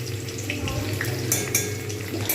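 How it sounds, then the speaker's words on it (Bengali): Cauliflower florets fry in hot oil until reddish, with a close, bubbling sizzle and some scraping and stirring in the pan, plus a few sharper clinks. "একটু লালচে করে ভেজে নেব তাতে টেস্টও ভালো হবে"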